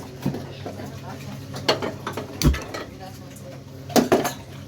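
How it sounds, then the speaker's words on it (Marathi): A metal appe pan set down on a gas stove, giving several distinct clanks and clattering knocks spaced a second or so apart, close to the microphone with talk in between. "आता आप्याचं हे आप्याचं भांडं आणि आता चालू करायचा गॅस"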